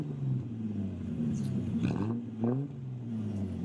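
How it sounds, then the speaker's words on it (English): Engines rumble and rev nearby, the pitch rising and falling as vehicles accelerate past in a continuous low roar. "You hear the sound of the motors all around."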